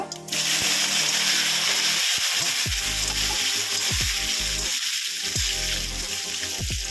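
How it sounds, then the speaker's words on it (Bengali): Potatoes frying in oil tempered with cumin, bay leaf and dried red chillies, a loud steady sizzle with repeated scraping and clanking of a spatula stirring in the pan, no talking. "আলুটাকে একটু ভেজে নিচ্ছি।"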